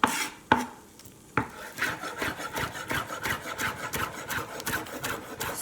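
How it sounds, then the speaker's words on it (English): Spring onions chopped on a wooden cutting board, a fast run of rhythmic knife taps and scraping strokes after a few isolated chops, close and fairly quiet with no talking. "Now I'm going to chop up the spring onions."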